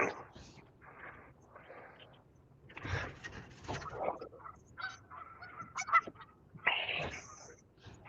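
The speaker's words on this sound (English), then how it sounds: "I hear the geese." Canada geese honk repeatedly in short harsh bursts, some overlapping, moderately close against a quiet outdoor background, with a person talking faintly now and then.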